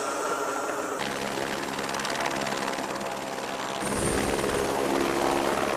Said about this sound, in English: Helicopter pilot Chelsea Tugaw is taking the Utah Department of Public Safety to new heights.